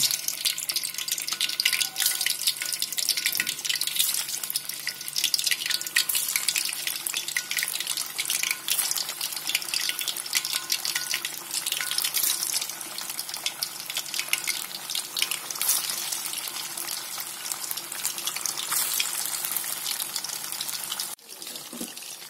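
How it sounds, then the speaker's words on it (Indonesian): Frozen ready-made snacks frying in hot oil, a loud, steady sizzle and crackle that runs for a long stretch and drops off sharply near the end; no voices. "Nah, minyaknya udah panas. Kita bisa goreng."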